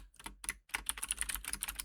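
Someone types on a computer keyboard, entering search terms for a PubMed query. The keystrokes are close and brisk, an irregular rapid clatter with a couple of short pauses, and nobody speaks.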